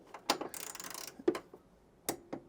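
Socket wrench ratcheting on a bolt inside a Hayter 41 lawn mower: short bursts of quick metallic clicking, close up, with a longer rapid ratchet run and scattered sharp clicks, no talking.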